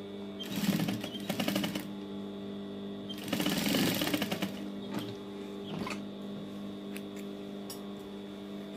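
A sewing machine stitches the lining of a baby girl's dress in two loud, rapid bursts, then runs in softer short spurts over a steady mains hum, with no one talking.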